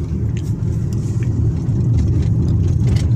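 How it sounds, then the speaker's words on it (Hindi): A car engine rumbles steadily while the car is driven near Haridwar, a low continuous hum with road noise heard from inside the vehicle, without talk. "और पापा भी गाड़ी चला रहे हैं"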